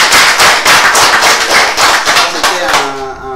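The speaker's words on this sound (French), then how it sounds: "ça s'applaudit, hein?" Loud, close clapping from a small group bursts out in quick irregular rounds, fading after about two and a half seconds as a brief tonal sound rings at the end.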